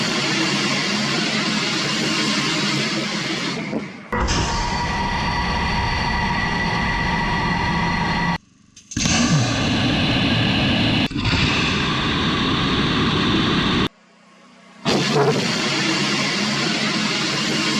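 A 2500 lb thrust rocket engine test firing roars as a loud, sustained broadband blast, cutting out abruptly in several bursts separated by brief silences, with no talk over it.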